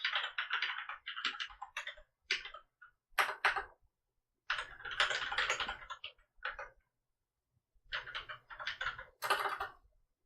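Bursts of rapid keyboard typing, clattering keystrokes in uneven runs with brief pauses, close up and fairly loud, no voices.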